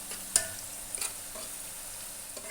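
Potato chilli with tomato sauce being stirred in a pan, a few soft scrapes and clinks of the spoon over a low background sizzle, quiet and close.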